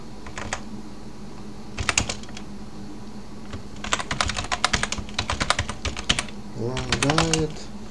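Typing on a computer keyboard in short irregular bursts of close, crisp key clicks with pauses between, against a faint background hum and a brief voice near the end.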